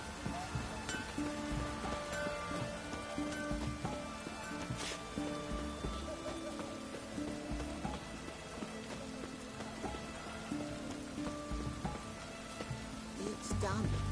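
Rain falls steadily in The Witcher 3: Wild Hunt, a constant faint patter with a low rumble and other game sounds throughout, no clear speech.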